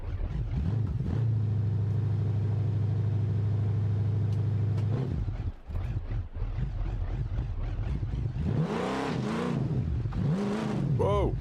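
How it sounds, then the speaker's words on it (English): A drag car's engine in the BeamNG career-mode driving game revs on its own with a sticky throttle, a loud droning engine note that rises and falls in repeated swells, with someone talking over it. "Whoa, it's revving itself."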